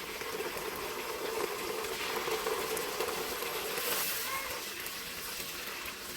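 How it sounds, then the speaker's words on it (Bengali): Ginger frying in a pan for a fish-head moong dal, giving a steady, even sizzle and crackle that runs throughout without a break. "লাল লাল করে একটু ভেজে"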